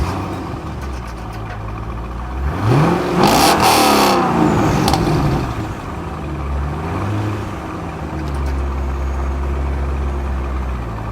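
A stock Corvette V8 with a bigger camshaft cranks and fires, then revs hard for a couple of seconds before dropping back to a steady, soft, low idle that rumbles on close by with no talking.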